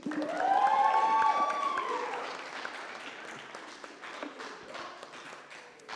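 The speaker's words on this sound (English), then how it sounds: "let's give Oculi another round of applause" Audience applause at the close of a high school film festival, a dense burst of clapping with some cheering and a drawn-out vocal whoop near the start, gradually thinning out over six seconds.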